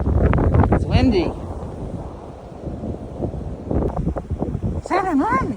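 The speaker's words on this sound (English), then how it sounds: "It's windy." Strong, gusty wind from a Christmas blizzard roars across the microphone in a broad, rushing wash that rises and falls, while a person outdoors calls out loudly a few times.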